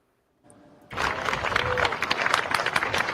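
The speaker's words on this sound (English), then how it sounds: "That is clapping." A group of people clapping, a short quiet rustle followed by a sudden burst of dense, sustained applause that stays loud and steady, with a voice faintly mixed in.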